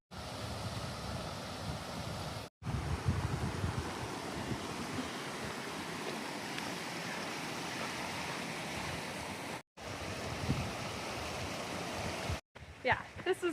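A mountain river rushes steadily beside a trail near Benson Lake in the high Sierra, a loud continuous wash of water with brief breaks and a few faint clicks near the end.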